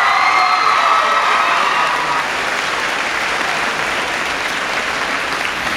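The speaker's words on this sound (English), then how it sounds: "Let's honor these individuals for their willingness to serve our country with another great round of applause." A large graduation crowd at Union High School's class of 2018 ceremony gives loud, sustained applause honoring military enlistees, with a few whoops and whistles rising in the first couple of seconds before the clapping settles into a steady, dense roar.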